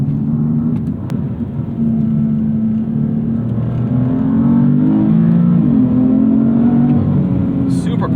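A 2016 BMW M3 F80 engine drones steadily from inside the car, its pitch climbing and then dropping sharply as quick gear shifts snap through.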